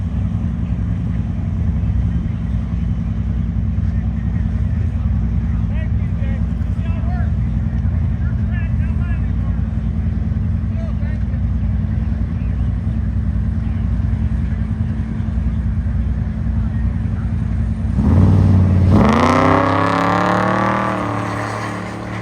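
Supercharged Corvette drag car racing down the strip at Byron Illinois Dragway, a loud sustained engine roar heard from trackside, ending in a sharp rising howl of revs near the finish.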